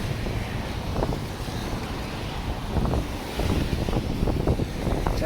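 Gusty wind buffets a microphone outdoors during a snowstorm on a bridge, a continuous low rumbling roar with uneven swells, loud and close, with no talking.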